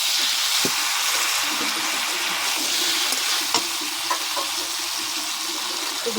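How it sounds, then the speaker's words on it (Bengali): Goat tripe frying in a pan with tomato and potato, a steady close sizzle with stirring scrapes and a few soft knocks throughout, no talk. "টমেটো দেব, আলুটাও দিয়ে দেবো, একসঙ্গে ভালো করে কষবো।"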